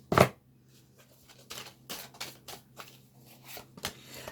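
Tarot cards are laid out and shuffled in a series of close, soft papery slaps and flicks. The rhythm is irregular, with a sharper snap at the start and quiet gaps between.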